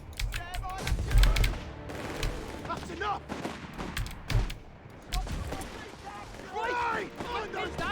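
Machine gun fire and other weapon shots in the strategy game Company of Heroes 3, with bursts of gunfire and heavy thumps scattered through a battle on beaches, under frequent talking and unit voice lines.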